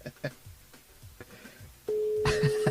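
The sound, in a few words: telephone dialing a listener on a radio show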